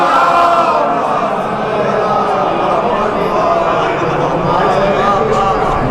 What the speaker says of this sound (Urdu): ایک بار بلند آواز میں نعرے سلوات